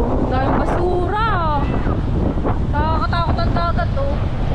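Constant wind buffets the microphone over roaring sea surf on a shore after a typhoon, loud and unbroken throughout, while people talk over it.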